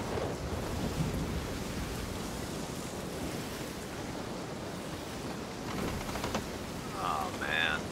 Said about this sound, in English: we're in the storm, Captain.